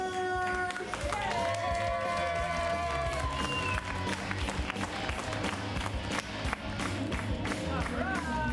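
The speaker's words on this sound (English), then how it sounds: "Now please keep that applause going for the Curious Comedy players." An improv comedy theater audience claps and cheers for the performers, a dense burst of applause under a voice speaking, with tonal sounds sliding across the first few seconds.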